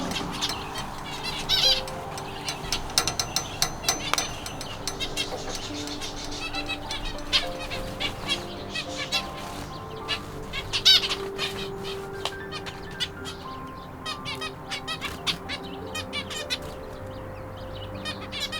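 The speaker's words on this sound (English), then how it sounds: "And here is my new finch." Finches in an aviary chirp in quick, scattered bursts close by, with occasional soft wing flaps and squawky calls rising over a low, steady background hum.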